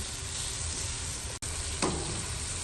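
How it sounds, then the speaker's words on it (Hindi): Mutton pieces frying with tomatoes and chilli masala for yakhni pulao, a steady close sizzle broken by a brief silent gap, then a short scrape of stirring. "अब मैं इसको अच्छी तरह भून लूँगी गोश्त के साथ ना, ताकि टमाटर भी अच्छी तरह गल जाएँ"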